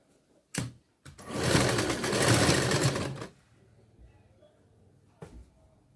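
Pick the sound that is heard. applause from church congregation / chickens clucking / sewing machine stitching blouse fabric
sewing machine stitching blouse fabric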